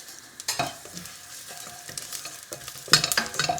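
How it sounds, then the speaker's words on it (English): A teaspoon each of cumin and fennel seeds dropped into a hot pan for karela onion sabzi, giving a close crackle and sizzle with scattered scrapes and a louder burst of activity near the end. "Nice hot pan, and then going to add a teaspoon of cumin seeds and a teaspoon of fennel seeds."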